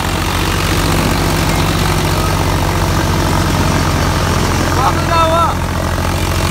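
A tractor engine drives a cutter through a slipping, loosened belt at around 1200-1400 rpm, giving a loud, steady low drone that runs the whole time with no break.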